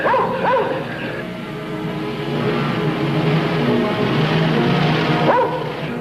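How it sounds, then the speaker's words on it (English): A hunting dog barks and whimpers in a dramatic scene, with several yips and bow-wows near the start and end and whining in between, fairly close over steady background noise. "The other man had a hunting dog."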